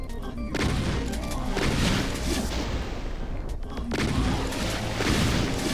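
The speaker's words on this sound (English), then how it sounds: "Just took like 6 shotgun shots." Repeated shotgun blasts from the Doom 2 Alien Vendetta megawad, Toxic Touch level, fired in a busy, continuous barrage of loud booming shots layered with game crashes and impacts.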